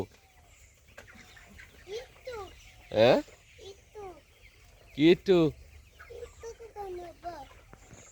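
Backyard chickens cluck and squawk while pecking at feed, with several short, scattered calls of varying loudness, some sharp and close, and a person speaks briefly among them.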